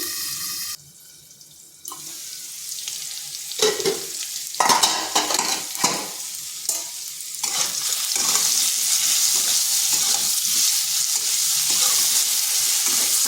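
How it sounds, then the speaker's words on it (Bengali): Potatoes fry under a lid in a pan over low to medium heat, giving a steady broadband sizzle that grows fuller and more constant in the second half, with scattered clinks and stirring noises near the start. "আঁচটা স্লো টু মিডিয়াম করে আলুটাকে ঢাকা দিয়ে কিছুক্ষণ ভেজে নেব"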